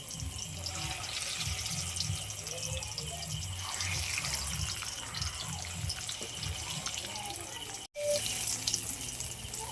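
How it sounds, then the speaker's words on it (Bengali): Green plantain pakoras fry in oil over low heat, giving a steady, dense sizzle and crackle that runs nearly the whole time, with one brief dropout near the end. "হালকা আঁচেই আপনারা ভাজবেন, আর বেশি বেশি দেবেন না, গায়ে লেগে যাবে। এইভাবে আমি ভেজে নেব।"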